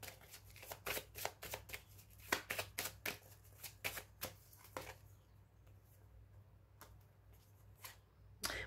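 Tarot cards being shuffled in a steady run of crisp riffling slaps, then quieter handling as a card is drawn, close and fairly soft, with no voice.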